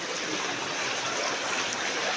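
Floodwater rushing along like a river after heavy rain in Bankura, a steady broadband roar of flowing water, continuous and fairly close with no pauses.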